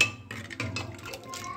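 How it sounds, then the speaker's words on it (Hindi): Cooked dal being whisked vigorously in a pot, giving a steady run of clinks and scrapes of utensil against metal, close and moderately loud. "ये देखो, फिर अच्छे से फेंटे।"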